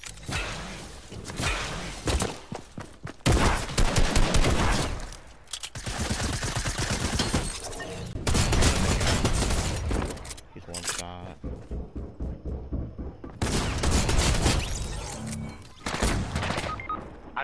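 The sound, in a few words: combat shotgun shots in Fortnite video game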